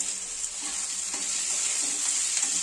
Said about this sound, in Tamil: இந்த சின்ன வெங்காயத்தை நம்ம உள்ள போட்டு சின்ன வெங்காயத்தையும் சேர்த்து வதக்கணும்